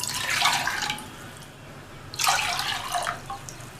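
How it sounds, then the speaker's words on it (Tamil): Two short bursts of water pouring and splashing into a cooking pot, close by, separated by a brief pause. "இந்த பாத்திரத்தில் 3 கப் தண்ணி சேர்த்துக்கலாம்"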